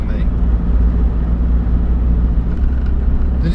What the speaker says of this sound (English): You can probably hear a fair amount of axle whine.